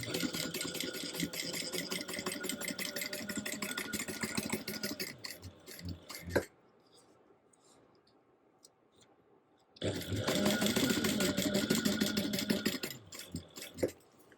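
A sewing machine runs in steady bursts while stitching a seam, with rapid rhythmic needle clatter, a pause of near silence midway, then stitching resumes loudly and close.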